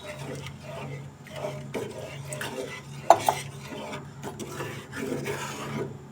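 Milk stirred and mixed in a pan with a utensil while cooking shahi paneer, soft scraping and swishing strokes with a couple of sharp metallic clinks, close by and fairly quiet.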